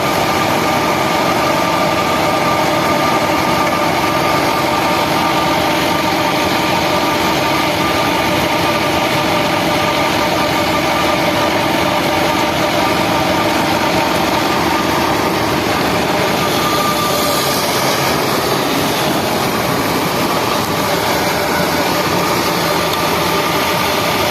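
A Fiat 640 85hp tractor engine drones steadily while running a wheat thresher, a constant loud mechanical hum with a faint whine that never lets up.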